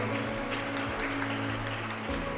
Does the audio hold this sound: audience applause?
yes